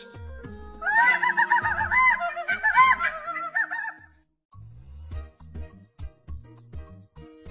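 A rooster and hens cluck and squawk in a loud burst for a few seconds, then quieter scattered clucks and rustling follow nearby.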